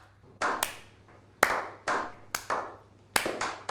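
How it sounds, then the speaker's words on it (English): A single person giving a slow clap: about seven sharp, separate hand claps spaced roughly half a second apart, close and clear over a faint low hum. "Yeah, slow clap."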